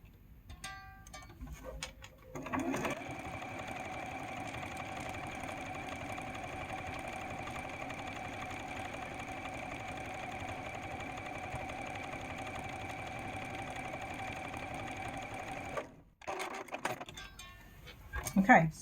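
A sewing machine runs in one long steady stitching pass down the side of a quilt-as-you-go Shoo Fly quilt block, its motor hum close and even, stopping briefly before a short restart at the end.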